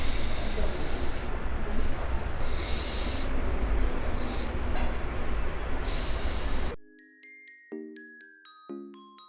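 A carbonated makgeolli bottle cap is eased open, releasing a long, loud gassy hiss with pulsing surges for several seconds before it cuts off and a short musical jingle follows.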